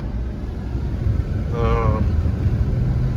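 A 2500 Chevy Avalanche with the 496 big-block 8.1 engine rumbles steadily under heavy wind buffeting, its tone rising slightly partway through as the throttle is given a little gas.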